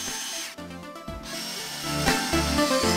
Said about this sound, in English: we'll tighten an M3 nylock nut all the way through